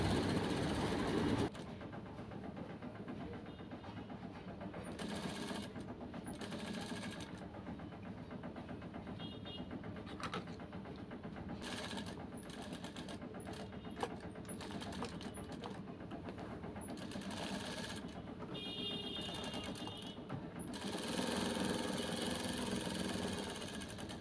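A sewing machine stitches the top side of a shirt cuff, running in repeated bursts of steady whirring with short stops between them, close and moderately quiet with no talking.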